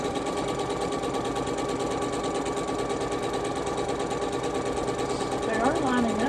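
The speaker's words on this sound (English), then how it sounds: "These long stripes are taking a hot minute to sew, aren't they?" A sewing machine runs continuously, stitching long fabric stripes, with a steady close mechanical whirr throughout and a brief voice near the end.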